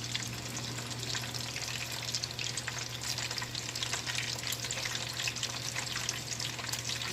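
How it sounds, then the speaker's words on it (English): Breaded chicken strips fry in hot oil, giving a steady, close sizzle with scattered pops and crackles that runs unbroken throughout. "Okay, so I can hear a popping sound."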